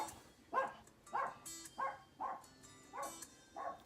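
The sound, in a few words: dog barking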